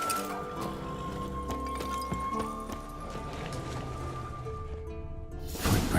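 Geralt's horse Scorpion in The Witcher 3 stands near a mountain camp, its hooves clopping and tack clinking over game music, with no talk.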